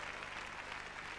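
Crowd applause at a show jumping event, a brief steady wash of clapping from a large audience heard at a distance.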